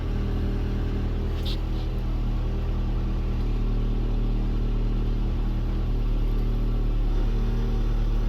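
A car engine run under throttle as the gas pedal is pressed, giving a steady, close, loud low rumble with little change in pitch across the stretch.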